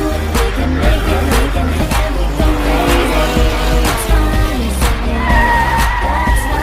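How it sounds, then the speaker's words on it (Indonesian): Race cars compete in a film scene, with engines roaring continuously and tires squealing loudly through the whole stretch. No one speaks over the racing. "Kemudian balapan itu pun dimulai, dan Wang Denan berhasil mengalahkan ayahnya"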